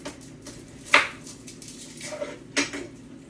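Utensils clink twice against a pot as garlic is added to cooking food, two sharp, close metallic taps about a second and a half apart over a quiet kitchen background.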